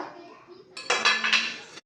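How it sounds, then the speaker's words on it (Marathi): Two metal spoons and a kadhai pan handled together, bright clinks and metallic clatter bursting out after a moment of quiet, with a voice audible just before. "हे दोन चमचा आणि ही एक कढई हे आणले बघा"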